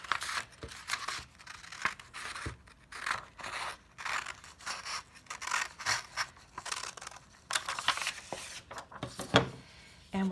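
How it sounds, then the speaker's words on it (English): Scissors cut a sheet of folded paper along its crease, making repeated close, crisp snipping and rustling strokes in an irregular rhythm, quiet and with no talking. "we're going to cut right along the fold"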